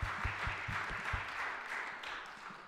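Applause from a gathered crowd thanking the organisers of a community fun day, a steady wash of clapping with a few sharper, closer claps standing out, continuing without speech.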